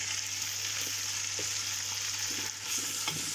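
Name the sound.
onions frying in a pan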